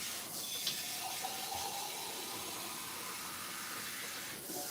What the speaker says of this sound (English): I just fill it up with water